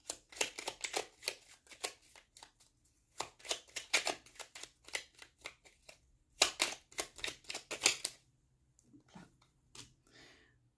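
Tarot and oracle cards being drawn and shuffled: bursts of crisp, papery riffling and flicking repeat in quick clusters, close and fairly quiet, then thin out to a few soft slides near the end.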